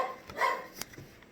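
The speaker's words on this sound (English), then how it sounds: "Sorry if you hear my dog barking." A dog barks once or twice, faint and somewhat distant, in an otherwise quiet room.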